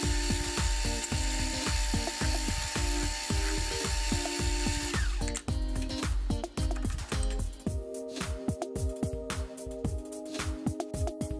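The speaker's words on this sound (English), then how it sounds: "The last operation on the bearing block pin was to lathe it to the correct length." A small lathe turns a bearing block pin for a miniature flame eater engine, cutting it to length with a loud, steady rhythmic chatter and whirring hum, later breaking into irregular scraping and knocks.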